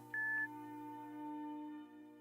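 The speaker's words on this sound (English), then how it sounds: "Please leave a message at the beep and I'll get back to you." A single short electronic voicemail beep in a visual novel game sounds once near the start, clear and steady, over a sustained tonal music background with no talking.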